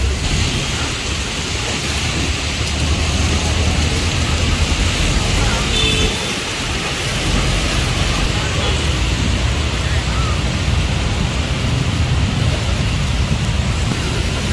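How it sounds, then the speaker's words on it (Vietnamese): Sudden heavy rain pours down on a Saigon street corner, a steady dense hiss that fills the whole scene without letup, with faint traffic and a voice talking in the background. "Bỗng dưng mưa quá trời lớn luôn."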